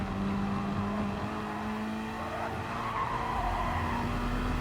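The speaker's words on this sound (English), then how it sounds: "we just drove off the track" A Gr.3 race car in Gran Turismo skids off the track at Monza, tires squealing in a long steady screech over the droning engine, loud and continuous with no talking.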